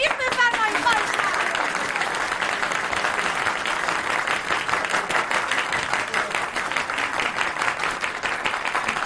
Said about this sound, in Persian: لطفاً آقا عطا رو که زحمت کشیدن و دیشب تا صبح این 2 دست مصنوعی رو ساختن تشویق بفرمایید.